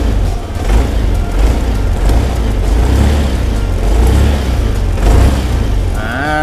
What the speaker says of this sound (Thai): เร่งเครื่องให้ฟังเสียง